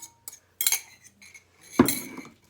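A utensil stirring toasted pecans into thickened cranberry sauce in a pot, giving scattered clinks and scrapes against the pot with a longer scraping stir near the end.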